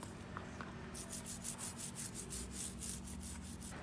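Rhythmic scrubbing of a rusty motorcycle chain with a brush, steady back-and-forth rasping strokes starting after a second and repeating close up, with no talk.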